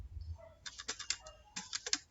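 Numbers are typed into an Excel spreadsheet on a computer keyboard, heard as quiet, close key clicks in short irregular bursts with brief pauses between, and no voice over them.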